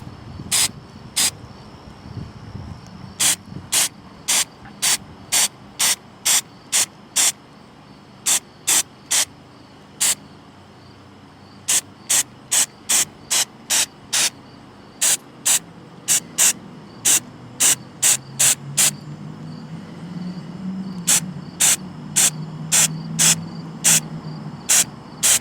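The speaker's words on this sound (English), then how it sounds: "for those of you who don't have much experience with spray painting, what you want to do is a series of short blasts." A spray paint can fires a long series of short, sharp hissing blasts, each lasting a fraction of a second, in irregular bursts close to the microphone, with no voices.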